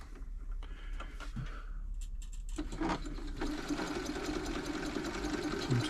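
A Janome Memorycraft 3000 sewing machine is switched on with a few clicks, then whirs into a steady, close mechanical hum with rapid stitching chatter that continues to the end.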